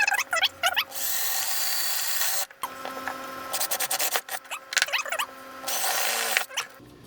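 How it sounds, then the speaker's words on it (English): A power drill bores holes into an airgun hammer, with long high whining runs broken by short scraping and clicking handling sounds, all close, no one speaking. "Now that we have the holes drilled, let's clean up the hammer"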